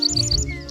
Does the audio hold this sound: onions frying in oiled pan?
no